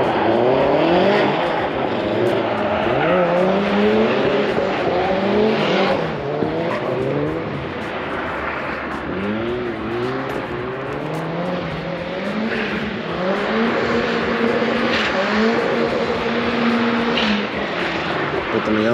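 A Mazda Miata drifts around a curve at an Englishtown, NJ private drift event, its engine revving and wavering loudly with tire noise, while a voice talks over it.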